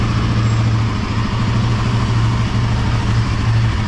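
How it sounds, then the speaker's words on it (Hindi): A Royal Enfield Himalayan 450 motorcycle engine runs at a steady idle, a close, even rumble with no noticeable change in pitch. "Engine start."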